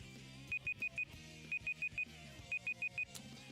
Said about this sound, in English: That is my go get water alarm, so I will be back.